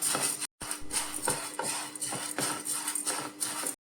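Dry roasted gram rattles and scrapes in a pan as it is stirred, with repeated metallic scraping strokes at an irregular rhythm.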